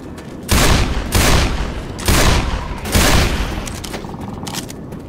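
Heavy gunfire aimed at a barricade in Left 4 Dead 2 comes in four loud, close volleys about a second apart, each a booming blast with a ringing tail, followed by quieter scattered clatter.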